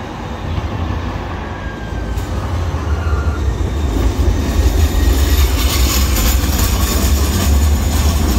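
Tram on line 18 in Arad passes close by, a loud continuous rumble of wheels on rails with faint squealing and rattling building over several seconds, no voices.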